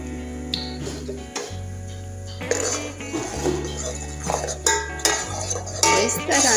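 A utensil stirs thickening mutanjan sugar syrup with lemon juice in a pan, producing irregular scraping and clinking against the metal over a low steady hum.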